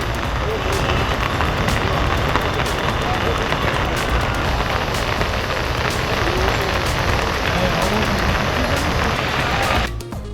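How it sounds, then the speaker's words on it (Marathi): Heavy monsoon rain pours down in Alandi, a constant dense hiss of downpour on surfaces, with a voice speaking over it. "आळंदीत मुसळधार पाऊस।"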